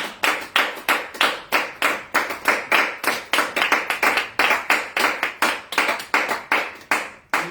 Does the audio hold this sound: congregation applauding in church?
yes